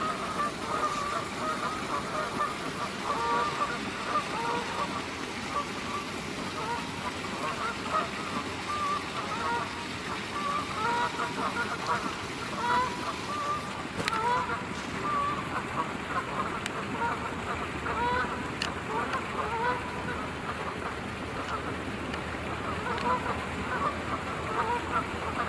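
Continuous chorus of geese and ducks calling, fairly distant and blended, with honks and quacks rising and falling over a steady outdoor background.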